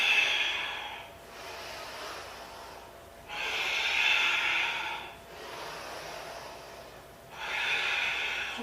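Long, slow breaths during a seated yoga twist, heard close and fairly loud: three drawn-out airy exhales, each a couple of seconds long, separated by quieter pauses.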